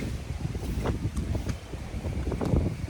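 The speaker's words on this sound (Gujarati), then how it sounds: "અત્યારે હજી પવન બહુ છે" Strong wind from a rainstorm in Jamnagar roars and buffets the microphone steadily, with low rumbling gusts throughout and no voices.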